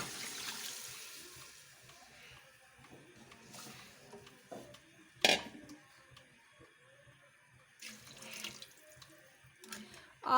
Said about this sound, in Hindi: तो अब हम इसमें 5 गिलास यखनी डालेंगे, चिकन की यखनी।